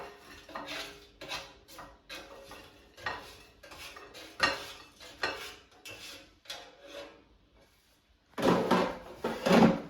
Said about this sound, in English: Let's take them out of the air fryer.